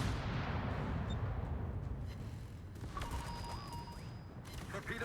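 Secondary guns on a warship fire in the World of Warships video game, heard as dense booming gunfire and crashes over a steady rumble across the whole stretch, with some tonal game sounds later.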